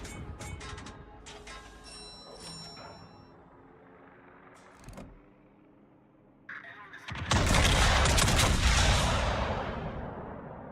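Warship guns firing in World of Warships, heard as a loud, heavy salvo that erupts late and rolls on for several seconds after a quieter stretch of ship ambience with faint mechanical clinks.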